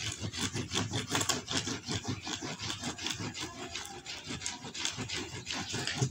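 Old coin chain being buffed fast with a dry flannel cloth after polishing paste, a quick rhythmic rubbing and scraping that carries on steadily at close range without a break.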